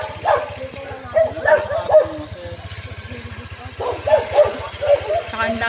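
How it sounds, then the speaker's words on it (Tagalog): Several dogs at a large house bark and yip in short bursts, fairly close, over a steady low engine hum and murmured voices. "Saka ang daming aso ng sir."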